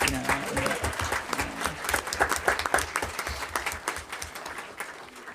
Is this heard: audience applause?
yes